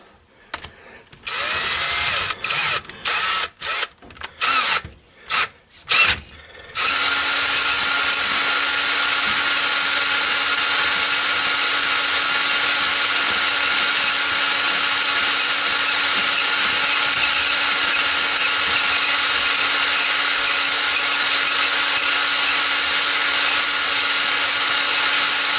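A drill spins a cylinder hone inside the bore of a 1966 Honda Benly engine, starting with a few short stuttering bursts and then running as one loud, steady whine with a constant tone for the rest.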